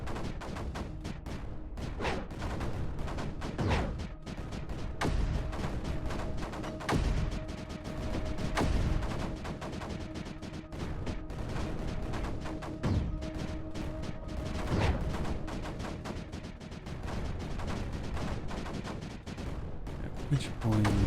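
Repeated booming shots from cannons in the strategy game Creeper World 4 thud at irregular intervals, each a deep, heavy blast over steady background game noise, with someone talking throughout.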